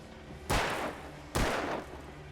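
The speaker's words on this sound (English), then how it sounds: "Come on, shoot him. Shoot him." Two heavy gunshots from the video game Alan Wake boom out about a second apart, each a loud sharp blast with a short decaying tail over quiet game ambience.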